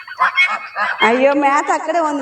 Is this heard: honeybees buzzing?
no